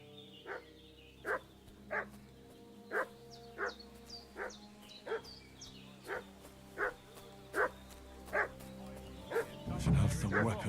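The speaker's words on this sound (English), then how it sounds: "What's that dog making such a fuss about?" A dog in the video game Kingdom Come Deliverance 2 barks over and over at a steady rhythm, about a dozen sharp, mid-distance barks over a quiet ambient background, with a brief louder rumble at the end.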